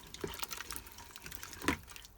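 Hot water from a kettle poured for making blackberry wine, a short splashing, trickling flow with a couple of brighter splashes, close by and with no voices.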